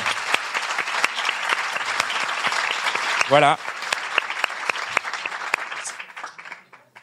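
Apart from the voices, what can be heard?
audience applause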